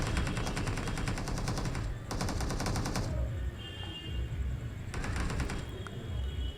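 Gunfire in PUBG on the Livik map, several close bursts of rapid automatic shots broken by short pauses, with no talking.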